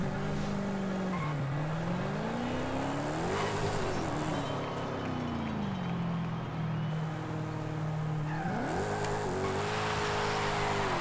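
A Dodge Challenger SRT Demon driven in stock form in Forza Horizon 5, its engine droning and revving up and down through gear shifts, with tire squeal and hiss as it drifts, loud and continuous.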